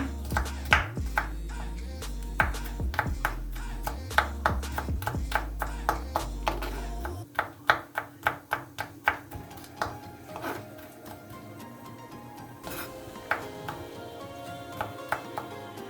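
Quick, steady knife taps on a cutting board chopping garlic, dozens of crisp chops in a regular rhythm, with a low hum underneath early on.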